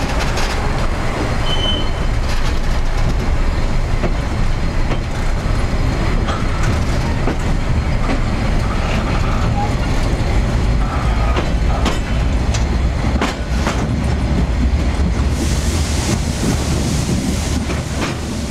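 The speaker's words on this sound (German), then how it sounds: "Der Zug biegt ab ins Tal der Beere." Harz narrow-gauge train on the Selketalbahn rumbling steadily along the track, loud and close, with continuous wheel and carriage noise, occasional clicks and a brighter rattle near the end, no talk.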